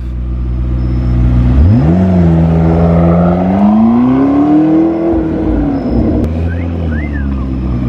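A Ferrari supercar engine idles, then climbs into a strong rising rev that holds and slowly falls back, loud and close.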